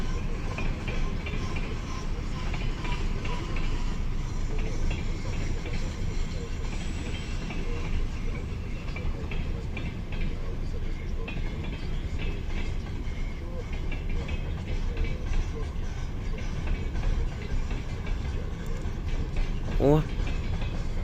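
Freight train hauled by a 2TE25KM diesel locomotive, tank cars and gondolas rolling past close by, a steady loud rumble with wheel clatter over rail joints throughout, without speech.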